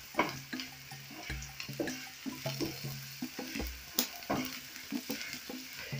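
A fish curry base fries in oil in a pot and is stirred, giving a continuous low sizzle with a regular run of scraping and knocking strokes, fairly quiet and close, with no talking.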